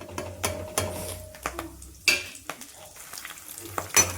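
Mustard seeds and garlic crackle in hot oil for tempering in a pan, with sharp pops and spoon clatter against the pan over a low sizzle, close up.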